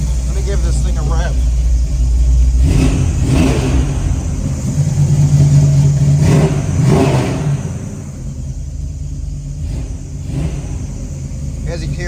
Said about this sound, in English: Let me give this thing a rev.